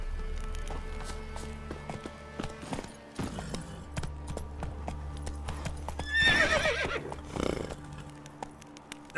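Roach, a horse in The Witcher 3, gallops with rapid rhythmic hoofbeats under a looping musical score, with a loud whinny in the middle and a brief voice near the end.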